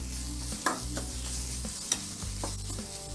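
Samosa filling sautéed with chilli powder in a pan, a close continuous sizzle with a low hum underneath and periodic scraping strokes of a spatula as it is stirred, no talking.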